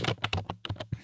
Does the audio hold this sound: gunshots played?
no